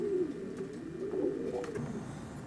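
A blue Catrice cock racing pigeon coos softly and repeatedly in a steady low murmur, close by, with no talk over it.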